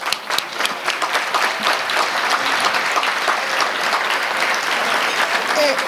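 A crowd applauding, dense steady clapping close by that carries on for several seconds without letup.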